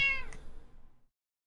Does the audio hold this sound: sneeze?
no